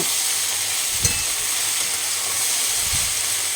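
Taro stolons frying in oil in a pan give a steady, close hiss and sizzle throughout, with a couple of soft stirring knocks against the pan.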